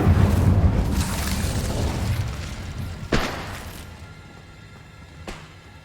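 The Incendio fire spell from Hogwarts Legacy bursts with a heavy boom and a roaring rush that fades, followed by two sharp cracks a couple of seconds apart.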